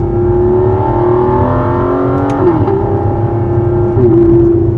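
An Aston Martin Vanquish Zagato engine revs loud and close, its droning pitch climbing steadily through two quick gear shifts that each snap the note down before it rises again.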